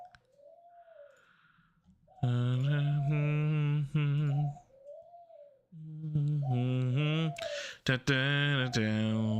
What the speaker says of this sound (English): You guys can hear my hootin' birds in the background